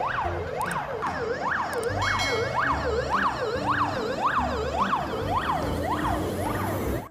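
A toy fire truck siren wails in a steady rising-and-falling cycle, loud and close, with a faint rumble underneath throughout.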